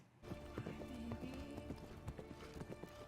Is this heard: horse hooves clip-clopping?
yes